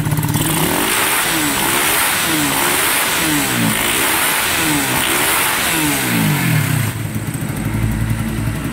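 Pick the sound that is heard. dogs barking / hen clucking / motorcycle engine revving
motorcycle engine revving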